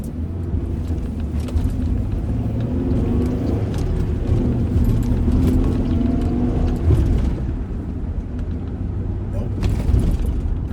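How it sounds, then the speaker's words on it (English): A 1998-2000 Ford Ranger pickup engine runs with a steady low rumble throughout, smooth and even at a normal idle after a high-idle fault was fixed, with road noise as it drives along. "It's idling perfectly, like it's supposed to."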